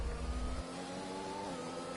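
Racing game cars accelerate at a safety car restart on the Hungary circuit, a continuous, close engine drone that shifts pitch as the revs climb.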